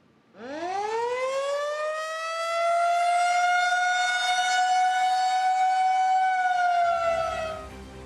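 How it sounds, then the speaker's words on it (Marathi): A loud civil defence war siren during an Indian mock drill winds up from a low growl to a steady, sustained wail, then begins to fade, with no voices. "हा सायरन आहे युद्ध सज्जतेचा, पाकिस्तानला धडा शिकवण्याचा।"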